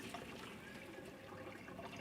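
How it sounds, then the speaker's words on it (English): Boiled noodles and their cooking water pour into a strainer in a home kitchen while making tuna casserole, a steady close rush and splash of liquid lasting throughout, with no talking. "I have my strainer sitting down there. I'm going to pour my noodles over it"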